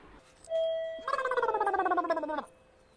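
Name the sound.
doorbell ringing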